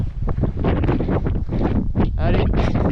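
Strong wind buffets the microphone in loud, rumbling gusts that swell and drop out of the moment-to-moment roar on an open hiking trail in the Massif Central, with no clear speech over it.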